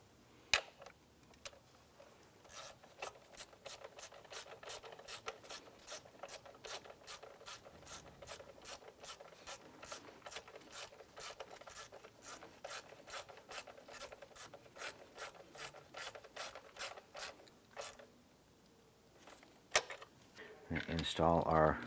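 A ratchet wrench snugs down a bolt on a 2001-2005 Honda Civic engine during timing belt and water pump work, giving long runs of rapid, evenly spaced pawl clicks close up, briefly pausing and resuming near the end.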